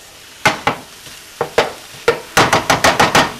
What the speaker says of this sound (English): Kind of flip it up on its side and scrape off what's browned